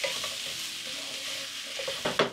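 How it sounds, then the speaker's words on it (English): Tomato paste for beef stew caramelizing in a pan gives a soft, steady sizzle, closing with a couple of brief spoon scrapes. "Always let tomato paste caramelize."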